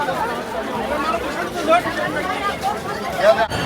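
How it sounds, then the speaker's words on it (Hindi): A huge crowd of pilgrims at the Mahakumbh 2025 gathering, a steady babble of many voices close and far, with a few louder calls and shouts rising out of the din. "बहुत भीड़ है, बहुत ज़्यादा।"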